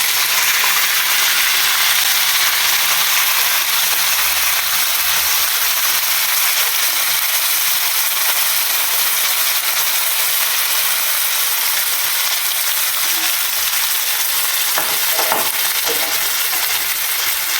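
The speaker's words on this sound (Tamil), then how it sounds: "இப்போ கடுகு நல்லா பொரிய ஆரம்பிச்சுட்டு இப்போ இந்த கட் பண்ணி வச்சுருந்த கடாரங்காலேருந்து நான் கொஞ்சமாக இதில் நான் சேர்த்துக்கிறேன்" Mustard seeds spluttering in hot oil for a citron (kadarangai) pickle, a steady bright sizzling hiss throughout with a few sharper pops near the end as citron pieces drop in.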